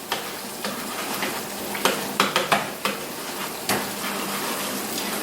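Tomato sauce cooks down in a pan with a steady low sizzle and bubble, broken by a series of sharp spoon scrapes and stirring knocks against the pan, close and fairly loud with no talking.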